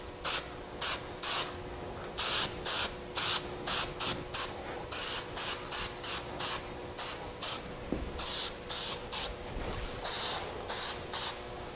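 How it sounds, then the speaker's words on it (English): Spray paint applied to the masked nose of a model in repeated short bursts, each a close hissing puff about half a second long, spaced in an uneven rhythm. "then we'll spray the nose"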